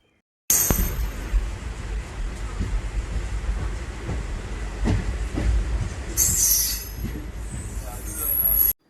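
A train rumbles steadily close by at Murudeshwar railway station, wheels clanking and squealing sharply at the start and again near the end, with a faint murmur of voices.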